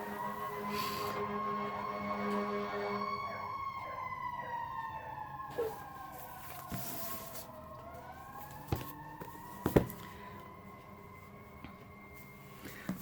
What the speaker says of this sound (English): No, that's the fire engines.